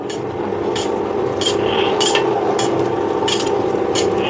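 An oil expeller machine pressing and pounding seeds for oil, giving a steady loud mechanical grinding hum broken by regular sharp knocks or thuds about every half second, with no talking.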